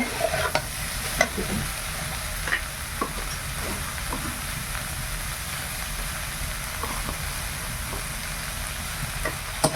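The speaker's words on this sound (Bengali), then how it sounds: "বাঁধাকপিটা এই মশলার সঙ্গে ভালো করে কষিয়ে নেব।" Shredded cabbage stir-fried with spices and salt in a pan, a continuous close sizzle with repeated sharp scrapes and taps of a spatula against the metal, steady throughout, no speech.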